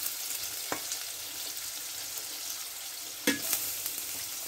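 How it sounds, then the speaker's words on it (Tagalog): Garlic sizzles in olive oil in a hot wok, a steady bright frying hiss throughout, with two short clatters of a utensil against the pan. "Susutin na natin yung garlic kabayan. Kawali, mainit na."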